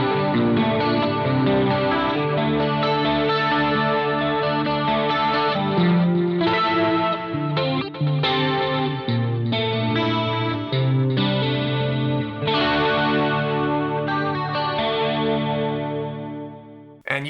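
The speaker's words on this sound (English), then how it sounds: "Let's add some chorus to that" Electric guitar chords and notes through a BOSS SY-1000 amp model ring out with a shimmering, swirling chorus effect, played steadily and clearly with no voices.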